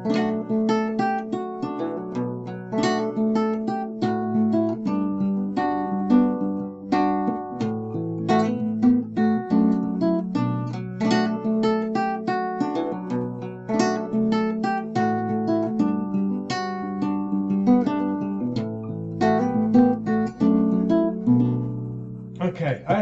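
A nylon-string guitar plays a busy picked riff with repeating note patterns over a steady bass line, clear and close.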